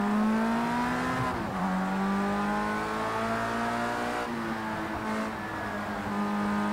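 A race car in Project CARS 2 pulls out of the pit lane at Donington during qualifying, its engine droning loud and steady as the pitch climbs and drops through gear changes.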